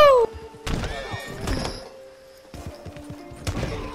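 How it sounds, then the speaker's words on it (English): A vehicle strikes a tree: one heavy thunk right at the start, followed by rattling commotion and excited voices close by. "We hit a tree."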